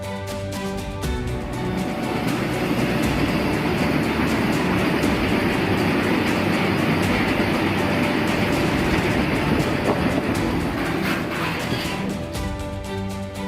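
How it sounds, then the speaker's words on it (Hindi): A specially designed Vande Bharat Express on a trial run from Katra to Srinagar rolls past loud and steady, its broad rumble and rail noise filling the whole stretch without a break. "खास रूप से डिजाइन की गई वंदे भारत एक्सप्रेस ट्रेन अपना ट्रायल रन पूरा करते हुए कटरा से श्रीनगर रेलवे स्टेशन पहुंची"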